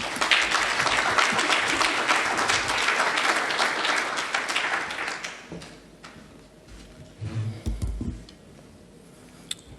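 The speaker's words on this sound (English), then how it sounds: "A big round of applause" A conference hall audience at an internet community meeting breaks into dense, loud applause that holds for about five seconds, then thins to scattered claps and fades, with a few low thumps near the end.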